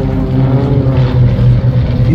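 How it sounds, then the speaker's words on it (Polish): A propeller airplane flying at the International Air Show Radom 2023, its engine a loud, close, droning roar with a steady throbbing pulse that holds throughout. "Jeden z tych samolotów."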